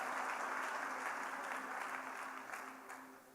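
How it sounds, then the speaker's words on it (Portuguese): Church congregation applauding after a pastor's call for a round of applause, a steady wash of clapping that holds evenly then slowly thins toward the end, at moderate distance. "Vamos dar uma salva de palmas para essas pessoas."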